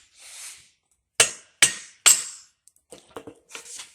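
Three sharp hammer blows ring out in quick succession against metal, knocking a heavy-duty adjustable saw horse loose, followed by a few lighter, scattered taps.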